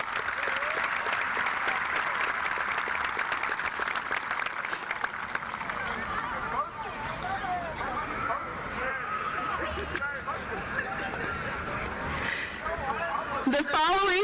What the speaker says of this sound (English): Give these medical assistants a round of applause.